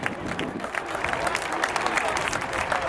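A stadium crowd at the Drake Relays masters 100 m applauds an introduced sprinter, a steady wash of distant clapping and crowd noise lasting throughout with light cheering mixed in.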